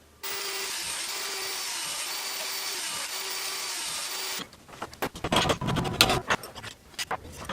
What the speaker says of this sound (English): Now let's drill some holes in it and bend it.